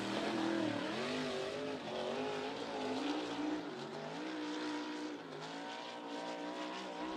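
Non-wing USAC sprint cars race around the track at Ocala, engines roaring loudly and continuously with rising and falling pitch as the cars pass, with no talk.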